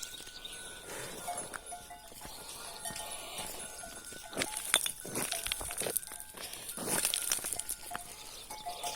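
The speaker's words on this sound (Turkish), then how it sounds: "Koyunlar kuzular su için içiyor." Sheep and lambs bleat among a flock drinking water, with bells clanking and hooves shuffling close by in a busy, continuous din.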